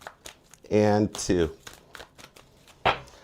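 Tarot cards riffle-shuffled by hand in two short bursts, crisp papery flutters mixed with speech before and after.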